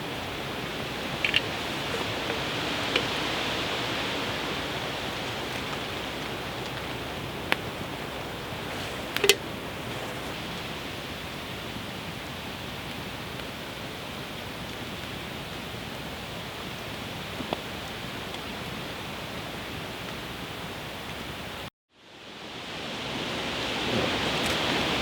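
Strong wind blowing steadily through a bushcraft camp at night, a constant broad roar with a few faint knocks, cutting out briefly near the end.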